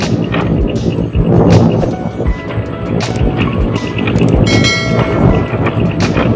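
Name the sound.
goods train passing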